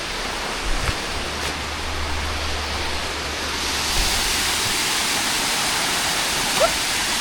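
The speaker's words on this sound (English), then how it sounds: "We'll capture a little bit more of the falls as we come down" Water tumbles down a waterfall on a creek in Tennessee, a broad, steady roar heard close and continuous, with brief low rumbles and small thumps early on.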